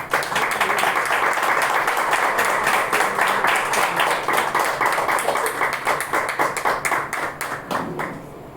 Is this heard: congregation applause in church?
yes